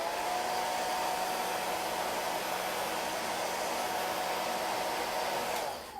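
A heat tool blows a steady, loud, constant rush of air to dry chalk ink on Christmas stockings, holding unbroken for several seconds before cutting off at the end.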